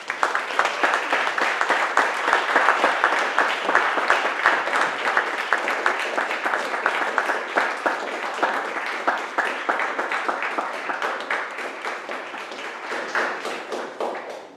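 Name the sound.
audience applause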